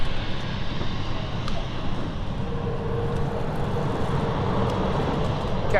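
An aircraft at London City Airport sends a steady, broad engine roar across the airfield at moderate distance, holding constant throughout with faint background hum.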